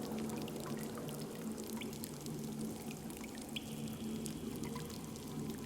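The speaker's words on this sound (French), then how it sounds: "Vous pouvez entendre l'eau qui coule." Water flowing in a cave, a steady wash of pouring and trickling water with scattered drips, continuous and fairly even throughout, with no speech.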